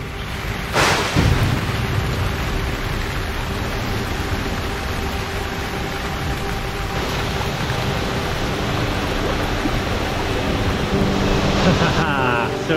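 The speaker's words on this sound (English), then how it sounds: "So it is actually properly raining now." Steady heavy rain pours at Sekumpul waterfall in Bali, a continuous broadband hiss mixed with the rush of falling water that holds evenly throughout.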